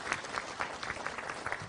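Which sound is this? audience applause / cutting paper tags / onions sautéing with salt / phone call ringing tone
audience applause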